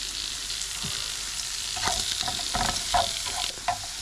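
Shrimp and pineapple with chili powder sizzle loudly in a pan at a desert camp, a constant close hiss broken by stirring scrapes.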